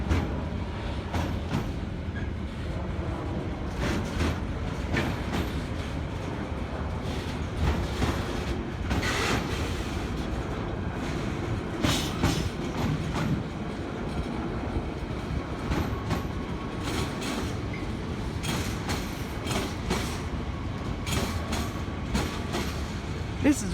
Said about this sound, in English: another DLR over there, heading to Stratford